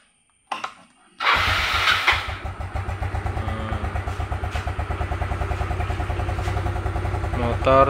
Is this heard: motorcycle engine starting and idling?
yes